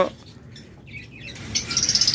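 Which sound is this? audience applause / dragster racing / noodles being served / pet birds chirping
pet birds chirping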